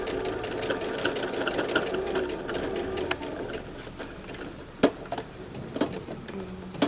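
A sewing machine runs continuously, stitching a topstitch along a fabric placemat, its fast, even mechanical whir close and steady, punctuated by a few sharp clicks toward the end.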